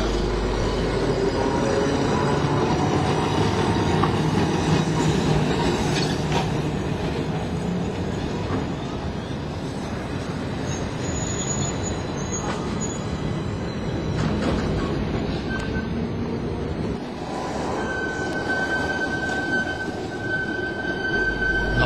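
A Sirio tram in Milan runs along the rails on a return loop, giving a steady, loud rumble with metallic wheel noise and faint squeals that continues throughout.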